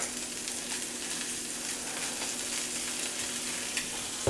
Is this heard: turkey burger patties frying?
yes